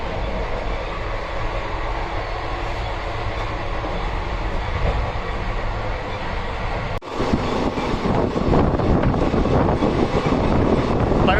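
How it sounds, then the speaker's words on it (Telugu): An express train on the Raichur to Secunderabad run rolls along with a steady, loud rumble of wheels and carriage noise, with a brief dip at about seven seconds before the clatter returns heavier and rougher. "ట్రైన్ ఇప్పుడు స్టార్ట్ అయింది"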